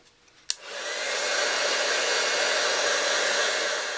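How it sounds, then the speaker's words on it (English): Heat gun melting clear embossing powder on card pieces, switching on with a sharp click and then blowing a steady, even roar that holds without a break, close up and alone. "I'm going to go ahead and emboss these"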